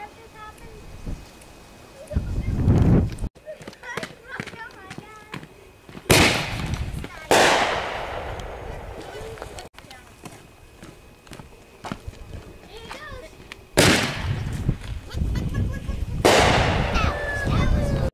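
Several sharp firecracker pops burst out one at a time with pauses between, loud and close, amid quieter rustling and background activity.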